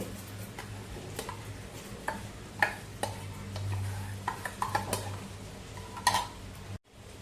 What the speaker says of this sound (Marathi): नितळलेली वरई मिक्सरच्या भांड्यामध्ये घेऊया.